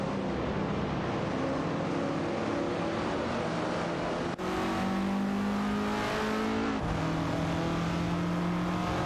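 AI-driven race cars in a video game roar steadily with engine drone and shifting pitch, a dense continuous racing sound with changing tones as cars pass and shift gears.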